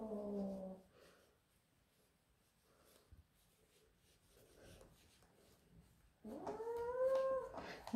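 A Persian Chinchilla cat lets out a loud, drawn-out yowl while its back feet are clipped. A shorter cry comes first, then a quiet stretch with faint rustling and handling sounds, then a longer, rising wail at the end.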